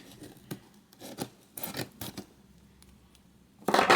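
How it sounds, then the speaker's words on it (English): Scissors snipping repeatedly through stiff packaging of a bulk dominoes box, a series of sharp cuts and rustles with short pauses, ending in a louder crinkling burst. "I should have got bigger scissors."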